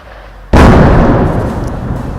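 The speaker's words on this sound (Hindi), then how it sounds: "कितनी नज़दीक ये धमाके हो रहे हैं और ये रुकने का नाम नहीं ले रहे हैं" A single heavy explosion from shelling along the Line of Control in Poonch booms suddenly and very loud and close, then rumbles and slowly fades over the next two seconds.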